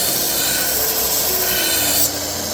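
A blade is honed on a sharpening stone held in an angle guide, giving a steady, close, loud gritty rasp of metal drawn across stone that keeps going without a break and shifts slightly near the end.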